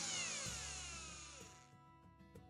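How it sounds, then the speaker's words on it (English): An electric drill whines through renovation construction nearby, a long, loud sweeping tone that slowly drops in pitch, with faint knocks underneath. "Sound of electric drill shows no sign of stopping."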